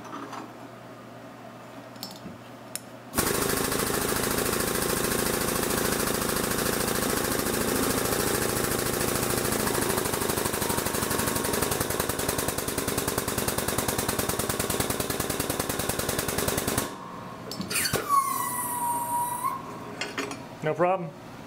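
A 6-inch-wide, 3/16 metal piece is bent on a SWAG finger brake: a loud, sustained grinding, straining roar lasting about fourteen seconds, followed by lighter metallic clanks and ringing.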